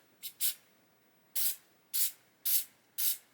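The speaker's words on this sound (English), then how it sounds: "just spray some on there, and hopefully that will sort it" Six short aerosol bursts of glue accelerator, two quick ones then four longer hissing sprays at a steady pace, close by in a quiet room.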